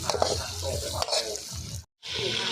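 Eel stir-fried in a pan for a spicy Thai dish, with a steady sizzle and scraping stir strokes, close and fairly loud, broken by a brief silent cut before the frying resumes.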